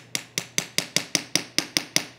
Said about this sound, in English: and we can hammer in